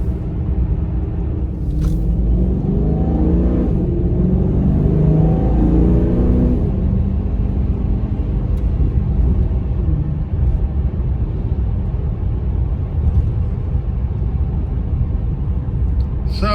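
An exotic sports car drives in sport mode on winter roads, its engine rising in pitch as it accelerates over a steady low rumble of road and cabin noise heard from inside.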